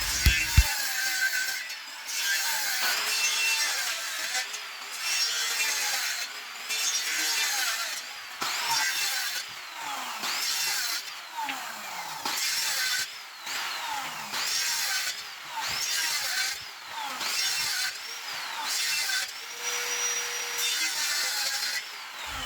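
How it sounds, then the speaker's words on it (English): A circular saw cuts through wood for a DIY wooden bed makeover, giving a long run of loud, rasping cutting passes with brief pauses between them, and no one speaks. "So I'm going to be using this circular saw to do the cuttings."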